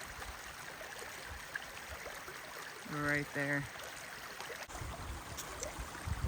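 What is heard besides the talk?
stream water on a hiking trail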